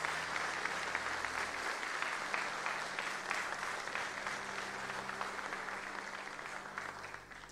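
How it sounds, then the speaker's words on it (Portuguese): A church congregation claps in praise during a sermon, steady crowd applause filling the room at moderate level and slowly tapering near the end. "Então aplauda ao Senhor"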